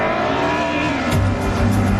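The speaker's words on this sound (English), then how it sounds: "You hear the engine starting up." Touring car engines firing up at the green light of a 1990s touring car sim race at Zandvoort, a steady mechanical drone that swells louder with rising revs in the second half.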